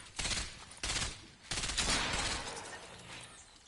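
Rapid bursts of gunfire in the video game Fortnite, three loud volleys of overlapping shots close together, the last one trailing off over a couple of seconds with no talk.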